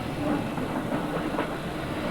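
Steady rumbling train noise from a London suburban railway of the steam era, a dense continuous roll of wheels on track with faint rhythmic clatter, heard alone without speech.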